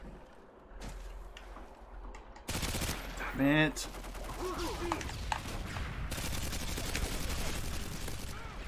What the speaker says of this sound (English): That was terrible shooting, man.